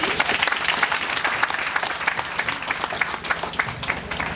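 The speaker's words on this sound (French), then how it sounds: "Vous pouvez applaudir pour lui." An audience applauds an award winner at a financing day ceremony in Dapaong, receiving a prize from the mayor; dense, steady clapping from a crowd fills the whole stretch with no talk.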